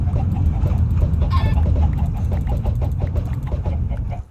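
Dense, rapid clucking and honking from a crowd of chickens in Minecraft with the Better Than Wolves mod, a loud, busy chorus of overlapping calls that continues throughout before cutting off at the end.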